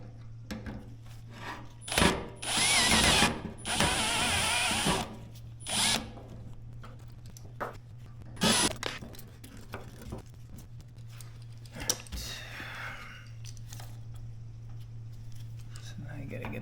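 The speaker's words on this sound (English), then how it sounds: "So there's 2 screws on the side here I need to take out." A power drill or driver backs screws out of a 1980 Camaro with a Blueprint 383 stroker engine: a few short whirring bursts near the start, then sparse tool clicks, all over a steady background hum.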